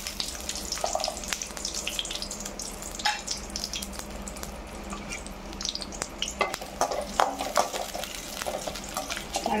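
Small shallots, about ten of them, fry in a little oil in a pan as carrot chutney is prepared. A steady close crackle and sizzle is broken by clinking stirring strokes and some watery sounds, with no talking.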